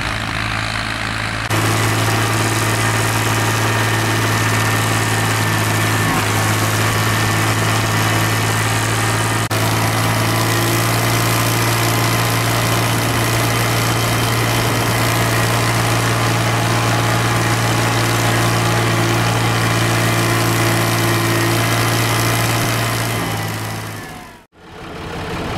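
A heavy diesel tractor engine idles loudly and steadily, a constant low throb and hum that cuts off abruptly near the end.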